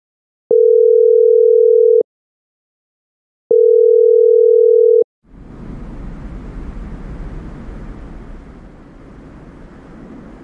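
A ringback tone for an unanswered phone call: two long, steady, loud beeps separated by silence, then a low, broad noise that fills the rest without any voices.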